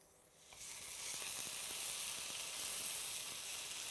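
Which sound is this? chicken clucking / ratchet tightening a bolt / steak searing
steak searing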